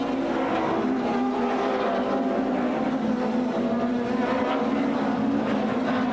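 Touring cars race at the Port Elizabeth circuit in the 1996 South African Super Touring Championship, with a continuous loud engine drone that shifts in pitch as the pack runs hard and no talk over it.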